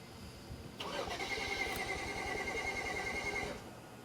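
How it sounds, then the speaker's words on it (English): A BMW 335i with low compression cranks without catching, the starter motor whirring steadily for about two and a half seconds and then cutting off, heard alone and fairly close. "go ahead and crank it"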